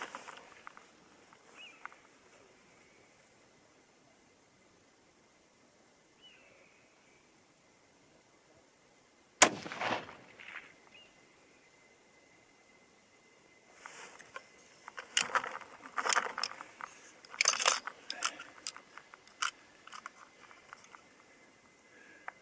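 A single sharp crack from a Seekins Precision Havak HIT rifle breaks a quiet stretch, followed later by irregular clattering and handling noises.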